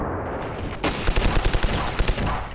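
Rapid bursts of gunfire in the video game Ravenfield, set in an Echo Base Battle of Hoth map, starting abruptly and continuing as a rhythmic string of close, loud shots.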